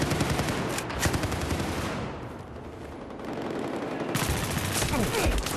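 Dense, rapid automatic gunfire without a silencer in the Battlefield 4 video game, a loud continuous crackle that eases slightly midway before resuming at full intensity.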